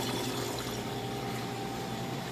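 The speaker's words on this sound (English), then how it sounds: "It's just the overflow making a bit of noise here." Reef aquarium overflow with water constantly running and trickling, a steady close hiss and gurgle that continues without a break and has no voices over it.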